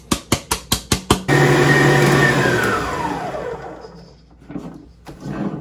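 An electric mixer blends wet and dry apple cake ingredients. Several quick pulses come first, then one loud, steady run whose whine slowly falls away, followed by a few faint knocks.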